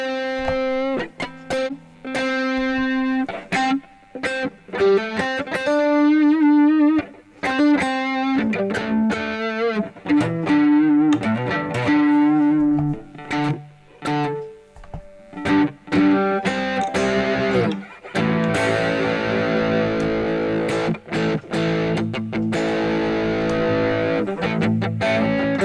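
Electric guitar played through a Zoom G1xOn multi-effects pedal on a blues patch with spring reverb, picking single notes, bends and chords in a loud, continuous phrase with a reverb tail and short pauses, no talk.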